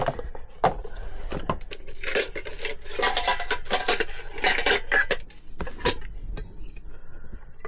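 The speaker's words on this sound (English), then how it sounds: "See, now I've got pots and pans." Metal pots, pans and cutlery from a camping mess kit clatter and clink while being handled aboard a 1987 sailboat, with a steady run of close, busy rattles and scrapes, no talking.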